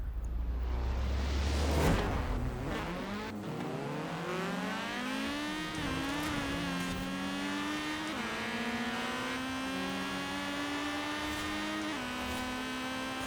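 A drag car in a racing video game launches hard with a manual clutch. The engine note climbs steadily and steps through several smooth gear changes, a loud continuous drone with no talking.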